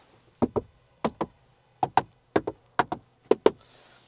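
Knuckles rap on the hard plastic interior of a Renault Kangoo or Volkswagen Caddy in quick pairs, about eight dull, hollow knocks spaced evenly across a few seconds, close and clear.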